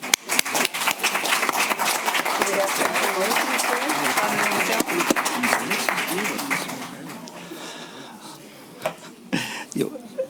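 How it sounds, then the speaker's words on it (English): A round of applause in a city council chamber, many hands clapping briskly for several seconds with voices talking over it, then tapering off into scattered claps and speech near the end. "Let's give him another round of applause."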